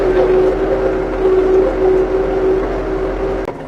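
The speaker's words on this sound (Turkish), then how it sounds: "boş traktörle yukarı çıkıyorum" A tractor drives uphill through a field with no plough attached. Its engine gives a steady, droning hum with a sustained tonal whine, close and constant, before a sudden knock near the end.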